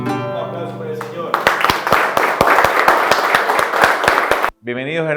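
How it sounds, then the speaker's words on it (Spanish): Congregation applauding in church, a burst of rhythmic clapping that starts after sung or spoken voice and stops abruptly before speech resumes. "Un aplauso para el Señor."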